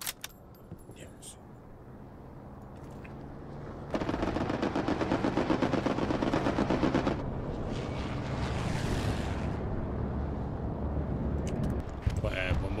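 Rapid bursts of gunfire and explosions rattle through a Hell Let Loose battlefield, a dense sustained barrage in the middle followed by a rumbling wash and a few sharp cracks, with voices talking over it.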